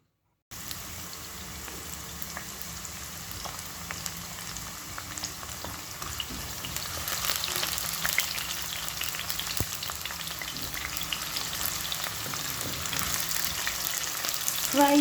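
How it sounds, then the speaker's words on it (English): Onions deep frying in oil until golden brown for an omena dish, a steady continuous sizzle that grows slightly louder partway through, with no voices. "Fry your onions until golden brown. That is what I'm doing."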